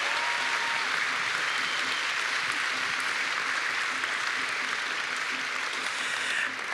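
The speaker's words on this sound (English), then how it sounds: "So an extra applause there." Sustained audience applause for dancers at a Celtic concert held at a college fills the whole stretch, loud, dense and steady from start to finish without any spoken voices.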